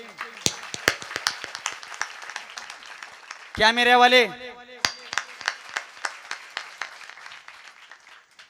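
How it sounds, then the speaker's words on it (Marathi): An audience at a devotional week gathering gives a final round of clapping: sharp, fairly sparse claps ring out, broken by a short burst of speech from a man before the clapping resumes. "आणि शेवटच्या टाळ्या"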